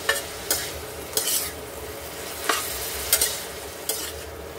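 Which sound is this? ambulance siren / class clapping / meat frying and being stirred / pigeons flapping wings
meat frying and being stirred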